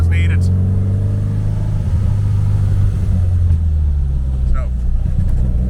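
A classic VW Beetle with an EFI engine drives along, a steady low close engine rumble running throughout with little change, and brief voices over it.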